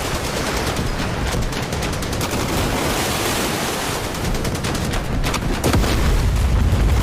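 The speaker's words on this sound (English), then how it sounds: "So the big gun turned around and shot them." Heavy naval gunfire from a ship's big gun during a video game sea battle with Apache helicopters, a light carrier and an Iranian gunboat swarm, dense and continuous with booming blasts over a steady roar, no talk.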